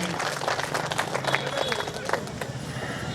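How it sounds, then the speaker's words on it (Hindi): Audience clapping at a nagar panchayat oath-taking and felicitation ceremony, a steady dense patter of many hands throughout, with crowd murmur mixed in. "सब लोग जोरदार ताली से इनका हौसला बुलंद करें"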